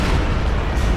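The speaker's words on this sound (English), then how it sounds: "That was not a recon. That was a giant explosion from something. Railway gun." A railway gun shell explodes in the World War II strategy game Company of Heroes 2, a loud, low booming blast that rumbles steadily through the whole second, with no voices over it.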